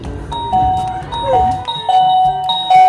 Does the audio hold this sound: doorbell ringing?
yes